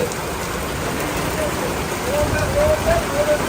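Heavy rain pours down at Chalan Beel, a dense, steady hiss of downpour close by that swells slightly toward the end.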